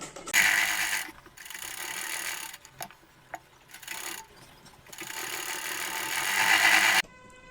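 A sewing machine stitches a kurti in long, loud runs of steady mechanical whirring, broken by short pauses and quieter stretches.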